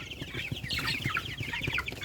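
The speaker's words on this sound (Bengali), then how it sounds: "এগুলো হলো টাইগার মুরগির বাচ্চা।" Tiger breed chicks chirping together inside a box, a dense, continuous stream of high overlapping peeps at close range, with no talking.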